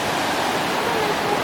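River water rushes steadily along the Aberglaslyn Pass in Snowdonia, a close, dense broadband roar with no pauses.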